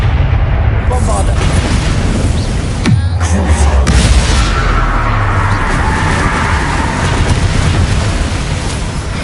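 A Bombarda blasting spell erupts in Hogwarts Legacy, a loud deep explosion with a sharp burst about three seconds in and a rumbling roar that carries on to the end.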